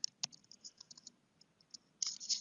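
Fingers tap on a computer keyboard in a quiet room, producing faint, irregular clicks close by that end in a short flurry of quicker keystrokes.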